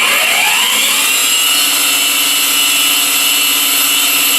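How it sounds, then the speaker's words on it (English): The ID spindle of a Studer S20-12 universal cylindrical grinding machine spins up, its whine rising in pitch over the first second and a half before settling into a loud, steady high-pitched drone. "and we should get ID spindle. We'll run that for a few seconds."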